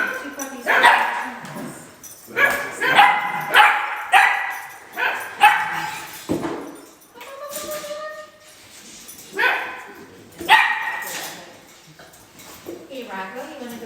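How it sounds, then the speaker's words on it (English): Two young dogs bark while playing, with a loud, close series of yips and barks broken by short whines. "Is it good play? It looks like two puppies."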